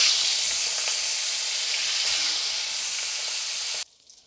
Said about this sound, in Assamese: মাছকেইটা নিমখ হালধি সানি লৈছোঁ, এতিয়া ভাজি ল'ম।